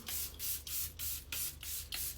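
Makeup setting spray from a pressurised bottle is misted onto the face in seven quick, evenly spaced hissing bursts, close and fairly loud, with no talk.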